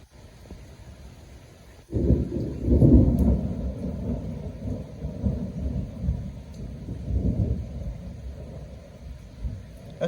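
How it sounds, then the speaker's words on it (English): Thunder rumbles loudly and close, rolling on and off through a heavy thunderstorm, with rain steady underneath and no talk. "this is thunderstorm now"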